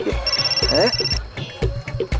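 A telephone rings in a Hindi TV family comedy scene, a repeated electronic bell tone in short bursts, loud and close, with someone talking over it.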